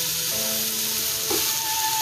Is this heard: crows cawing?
no